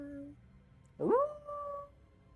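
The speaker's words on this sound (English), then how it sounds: "You hear some howling in the distance, but far, far away" A distant howl, probably a dog or wolf, rises once and then holds a long, drawn-out tone, faint and far away, with a softer tone briefly before it.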